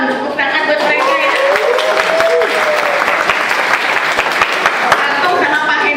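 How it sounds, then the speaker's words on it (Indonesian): A church congregation applauds the multimedia and sound team, dense continuous clapping filling the hall while a voice speaks over it and faint tones ring in the background. "Multimedia sama sound, tepuk tangan buat mereka ya."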